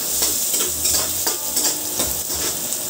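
Ginger sizzles in a hot pan for a sweet and sour lapu-lapu sauce, a steady close fry with repeated scraping stir strokes and light utensil clinks throughout.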